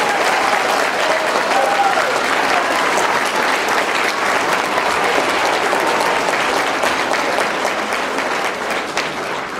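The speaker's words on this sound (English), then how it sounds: "Can we get another round of applause, please?" Dense, steady applause from a large audience at an evening school celebration, sustained and loud throughout with a slight fade toward the end.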